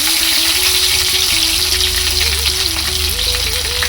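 Garlic fries in hot oil with mustard seeds for a tomato garlic pickle, a loud, dense, steady sizzle heard up close and uninterrupted.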